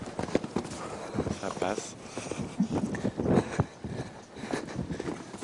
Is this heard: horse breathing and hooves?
yes